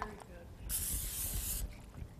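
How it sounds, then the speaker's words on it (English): A single burst of cooking spray, about a second long, hisses close up onto a baking dish, with quiet kitchen handling before and after. "Oops, spray my baking dish, almost forgot."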